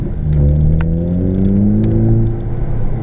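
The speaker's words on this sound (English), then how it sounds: "This is what a GTI is supposed to sound like." A Volkswagen GTI with a Megan Racing Drift Spec exhaust accelerates on a salty winter road, a loud, close, droning exhaust note climbing steadily through the revs, heard from inside the car with the windows closed and no talking.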